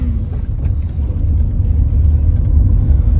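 A second-hand Hyundai Verna drives along an open road, heard from inside the cabin as a loud, steady low engine rumble with road noise that builds gently as the car picks up speed.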